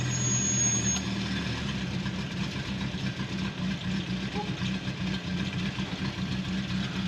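An old mail truck that has sat unused for a long time idles with a rough, steady low rumble throughout, at moderate distance with a faint squeal early on.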